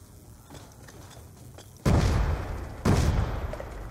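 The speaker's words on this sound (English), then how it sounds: "Alright, now throw a grenade at me" Two heavy grenade blasts roughly a second apart in a zombie shooter game, each a loud sudden boom with a lingering rumble, standing out over quiet background noise.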